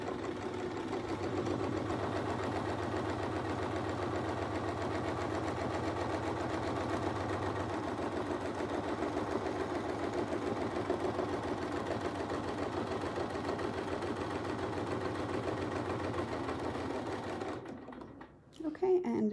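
A sewing machine runs in one long steady stitching burst while quilting along a Westalee ruler, a continuous mechanical whir that stops near the end.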